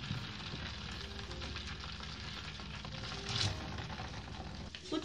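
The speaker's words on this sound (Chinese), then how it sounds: "给它复炸" Taiwanese popcorn chicken re-fried in hot oil, a steady close sizzle and bubbling that carries on throughout with slight swells, ending in a brief clatter.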